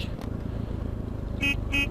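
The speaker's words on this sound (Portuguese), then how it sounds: "Aí, buzina aqui, mano." A car horn in GTA San Andreas honks twice in short bursts near the end, over steady engine rumble from a motorcycle ride.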